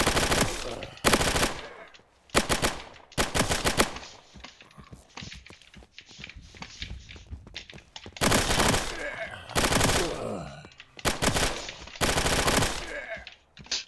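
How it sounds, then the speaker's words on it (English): A sidearm fires in rapid bursts while shredding zombies in a video game, with loud, dense volleys of gunfire broken by short pauses and some quieter action between them. "This weapon also has a pretty high rate of fire, so you can just kind of shred through the zombies pretty fast."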